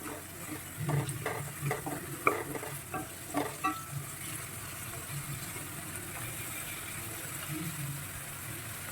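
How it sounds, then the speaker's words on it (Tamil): Onions sauté with salt in a pan over high heat, giving a low, steady sizzle with a cluster of clinking stirs near the start, heard close and quiet. "இந்த உப்போடு சேர்த்து இந்த வெங்காயம் இது எல்லாத்தையுமே நம்ம நல்லா வதக்கி விட்டுருவோம்"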